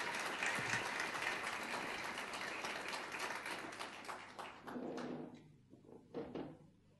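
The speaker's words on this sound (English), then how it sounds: "Ladies and gentlemen, a very large round of applause for a wonderful opportunity." A conference audience applauding, a moderate wash of clapping that fades and thins out toward the end, with a few scattered claps and small knocks.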